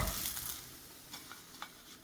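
Thin crepes frying in a pan for a chocolate crepe cake, a soft steady sizzle with a few light scraping taps, close and quiet.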